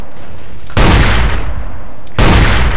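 Gunfire in the Ace of Spades video game as trees are shot down, two loud, sudden blasts close in, each booming onset trailing off into a long rumbling decay.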